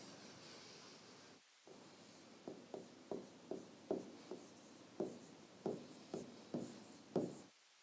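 Chalk or marker scratches across a board during a calculus lecture: about a dozen short, quiet strokes in a fairly steady rhythm, close by, following a brief pause, with no talk over them.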